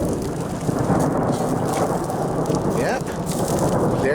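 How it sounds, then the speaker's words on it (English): Thunder rolls in a long, low rumble during an outdoor storm, mixed with a steady hiss of rain. "that's some thunder"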